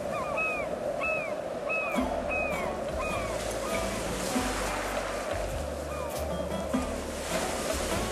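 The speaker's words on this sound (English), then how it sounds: "The waves keep pushing the planks against the cliff." Video game ocean waves break against a cliff as a steady, loud wash of surf. Gull-like bird calls repeat over it, and a low hum runs underneath.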